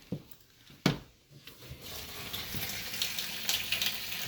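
Water runs from an Amway eSpring filter faucet. After a few soft clicks and a brief knock, a steady stream of flowing water builds and continues close by.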